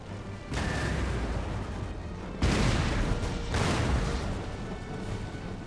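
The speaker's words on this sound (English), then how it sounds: "let's see if we can get our cannons to fire on these." Cannon fire from a Total War: Empire battle, with heavy booming blasts in bursts, one at the start and a louder one midway, followed by rumbling volleys and sustained battlefield noise.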